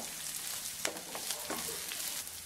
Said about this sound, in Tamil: வெங்காயம், பச்சை மிளகாய், கருவேப்பிலை சேர்த்து வதக்கி விட்டுறலாம்.